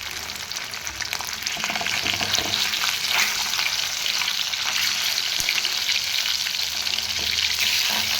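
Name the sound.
fish frying in hot mustard oil in a wok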